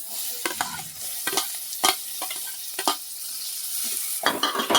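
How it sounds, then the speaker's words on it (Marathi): Tomatoes sautéing in a pan with onion and ginger-garlic paste, stirred at intervals, with a steady close sizzle and repeated scraping strokes of a spatula across the pan, and no talking. "टमॅटोला पण परतवायचं चांगलं."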